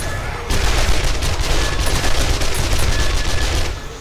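Rapid, continuous SMG gunfire in the console version of 7 Days to Die, loud and dense, a sustained fusillade of shots lasting several seconds with heavy low rumble underneath.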